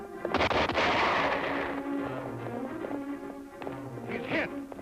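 Gunshots in a Zorro film serial: a loud cluster of sharp cracks opens the scene, followed by rumbling action noise and another burst of reports near the end, with voices mixed in.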